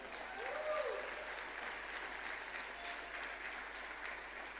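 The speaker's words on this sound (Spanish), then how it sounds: "Y date un fuerte aplauso." A church congregation applauds during a sermon, giving a sustained, moderately faint round of clapping. A brief high whistle-like tone rises early on.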